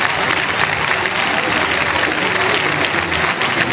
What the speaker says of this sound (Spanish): Bienvenido, un fuerte aplauso para este joven.